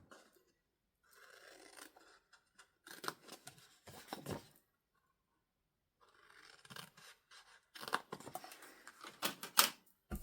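Scissors cutting a folded paper card in short close snipping and rustling bursts separated by quiet pauses.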